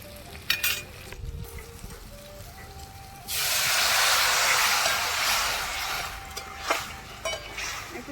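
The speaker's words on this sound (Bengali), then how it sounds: "আলু দিয়ে দেবো একটু ভেজে নেবো হালকা করে" Potato pieces dropped into a hot pan to fry lightly for aloo posto: a few quiet clinks and taps, then a sudden, steady loud hiss of sizzling oil that eases off slightly.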